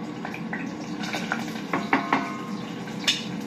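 A little cooking oil going into a frying pan, heard as a soft, low hiss with scattered light clinks of metal utensils and cookware, close up and with no talking.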